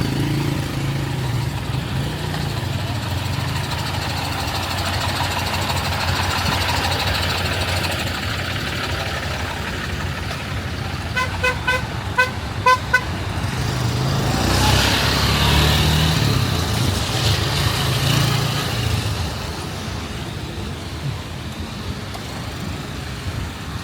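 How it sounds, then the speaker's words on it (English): Cars idle and creep forward in a queue at a toll point at Lagos International Airport, engines humming low and steady with a swell of passing traffic midway and a few faint clicks. "See the cars lining up to pay."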